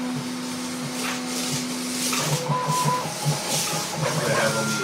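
A 3D printer prints a small board for racing, its motors whirring and humming steadily with shifting tones and a constant faint hiss, close and alone.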